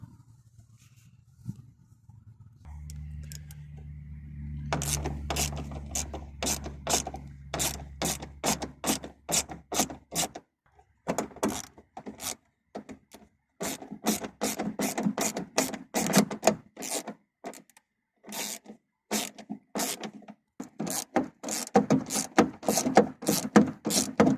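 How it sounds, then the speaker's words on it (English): A ratcheting wrench rapidly clicks while bolts are removed from a Saab 9-3 door lock, giving long runs of sharp, close metallic ticks in bursts, preceded by a low hum. "first I will take the bolts off, so I'm gonna take the lock out to take the clip off."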